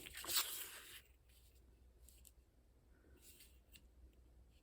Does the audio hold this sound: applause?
no